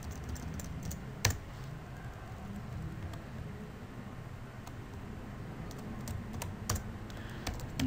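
Java code being typed on a computer keyboard: light, sparse key clicks scattered across a steady hiss of room noise, with an occasional firmer keystroke standing out.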